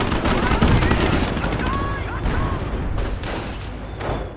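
Dense battlefield gunfire from the WWII strategy game Company of Heroes, a steady crackle of rifle and machine-gun fire with heavy low rumble throughout, mixed with faint voices and radio chatter in the background.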